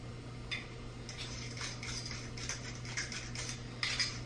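Deviled egg filling with cheese and red pepper is stirred in a bowl, giving quiet, irregular clinks and scrapes of a utensil over a low steady hum, with a brighter clatter near the end.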